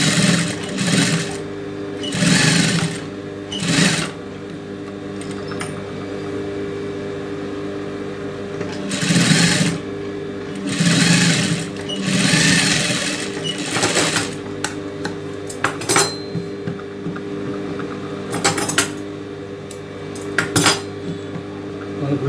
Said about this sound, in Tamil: அப்படியே வச்சு மேலே ஒரு தையில போட்டுக்கலாம்